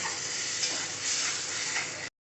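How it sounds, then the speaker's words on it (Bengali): Vegetarian butter tarka sizzles and fries in a pan while a spoon stirs through it, a steady close crackling hiss with scraping strokes that cuts off abruptly after about two seconds. "ভালো করে হচ্ছে কষে দিতে হবে, যত কষা হবে তবে তরকাটা খেতেও খুব ভালো লাগবে।"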